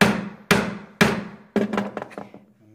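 A mallet strikes a chisel sunk into a wooden mortise with three evenly spaced solid blows, then a quicker cluster of lighter taps, close up and dry with short woody thunks.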